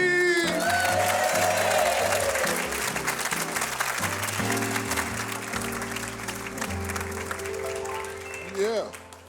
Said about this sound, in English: Please put your hands together and start clapping